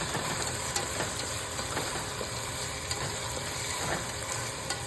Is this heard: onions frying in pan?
yes